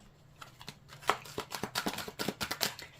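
Tarot cards being handled as the fifth card is drawn and flipped over, a run of quick papery snaps and slides close up, with no talking.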